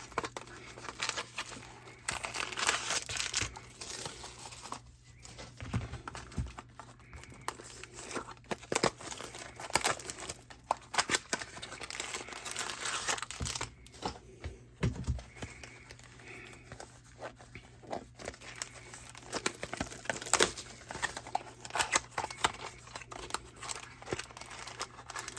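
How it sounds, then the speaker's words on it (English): Foil Uno Elite booster card packs being unwrapped, with continuous close crinkling and crumpling plus occasional tearing bursts, busy and irregular throughout. "going to try to unwrap all these so it's a little bit quicker."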